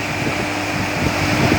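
Electric motor running steadily, a continuous broadband whir and hum with a faint tonal whine, heard close up for a moment with no talk.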